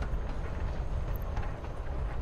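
A low, steady rumble of a moving train carriage in the video game Life Is Strange: Before the Storm, with faint rhythmic clatter underneath and no talking.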